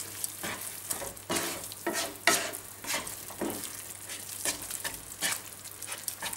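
A spoon stirring creamy cheesy nettle sauce in a hot pan, a repeated rhythm of soft scraping sweeps over a gentle low sizzle, close and fairly quiet, with no voices.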